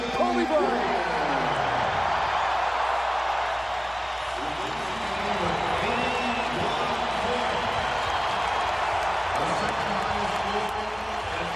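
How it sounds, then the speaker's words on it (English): A basketball arena crowd roars continuously for Kobe Bryant of the Lakers during his 81-point game against the Raptors, a dense, sustained swell of cheering and applause with an announcer talking over it. "listen to this crowd for number 8, Kobe Bryant"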